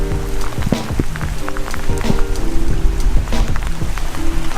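Steady rain falls on a Snowdonia landscape beside Llyn Dinas, a dense patter of drops striking nearby surfaces with a few sharper splashes throughout, loud and continuous with no voices.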